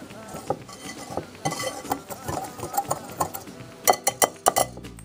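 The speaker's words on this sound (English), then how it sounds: "I'm just going to give all of my dry ingredients a quick mix" Dry baking ingredients for banana cupcakes are stirred briskly in a bowl, a utensil scraping and clinking against the sides in quick uneven strokes, ending in a few sharp louder knocks, close and alone.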